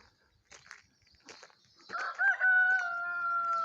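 Chickens cluck near a camper van parking area in the Landes, then a rooster crows loudly and close, its long sustained call filling the second half.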